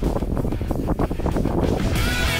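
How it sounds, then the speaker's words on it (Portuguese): Strong wind at Pico do Jaraguá, a dense, continuous roar buffeting the microphone with loud gusts throughout and no clear voices. "A ventania danada."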